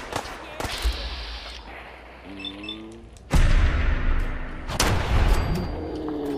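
Gunfire aimed at Rust Devils in Fallout 4, with sharp gunshot bursts breaking out across the clip, the heaviest volley near the middle, over game ambience and someone talking.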